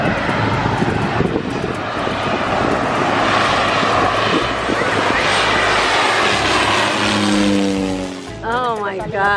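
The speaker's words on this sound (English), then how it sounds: "We get a big jet coming." A big jet airliner roars low overhead at Maho Beach in St. Maarten, a loud sustained rumbling blast that swells and then fades, with beach crowd noise and people talking mixed in near the end.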